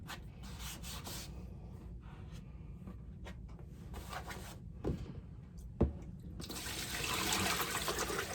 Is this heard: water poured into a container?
yes